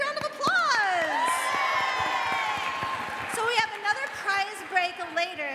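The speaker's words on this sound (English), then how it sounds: "Give them a big round of applause." Audience at an anime convention panel for Sailor Moon erupts in loud cheering, whoops and shrill shouts over scattered applause, excited voices ringing out close and long.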